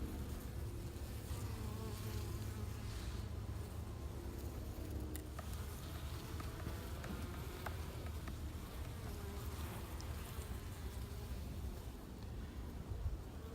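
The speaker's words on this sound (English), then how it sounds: "There's bees on every frame." Honey bees buzzing around open hive frames while a spring super is added, a continuous low droning hum that stays steady and fairly faint throughout, with no talk.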